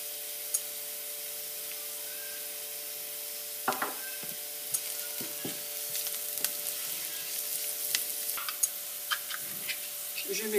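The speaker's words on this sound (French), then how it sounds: "et je fais revenir les oignons" Onions fry in a pan, a soft steady sizzle with occasional crackles and stirring clicks, fairly quiet and close throughout.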